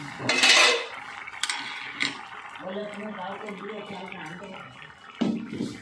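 A lid is lifted off a cooking pan of tangy, spicy bata fish curry with green tomato, giving a few sharp metallic clinks and clatters close by while a person talks.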